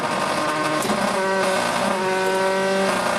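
A Mini Cooper rally car tears past at speed during the 2013 Rally Austria European Rally Championship stage, its engine note loud and high-revving throughout, with no talk over it.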